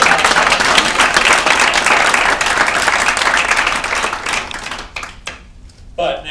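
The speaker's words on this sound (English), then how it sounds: "Do a round of applause." Audience applause at a cancer foundation kick-off event, sustained dense clapping from a crowd filling the room before thinning out and fading into a few scattered claps near the end.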